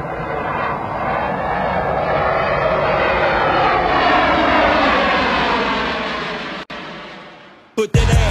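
A fixed-wing airplane's engines drone loudly and steadily during flight, a dense continuous roar that slowly fades before cutting off abruptly near the end, with no speech.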